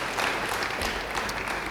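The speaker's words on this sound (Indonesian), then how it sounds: "Beri tepuk tangan bagi dia." A church congregation claps in applause during a sermon, a short burst of dense, steady hand clapping at a moderately loud level with no speech over it.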